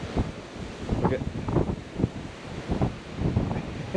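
Strong storm gusts buffet a campsite in Shenandoah National Park, roaring in repeated bursts against the microphone with rustling between them, loud and close.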